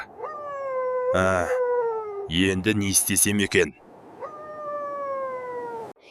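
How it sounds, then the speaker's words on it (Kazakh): In an animated Kazakh fairy tale, a dog howls in long, wavering tones, broken by a burst of barking in the middle. A voice speaks briefly over it. "Иттің дауысы шығып жатыр."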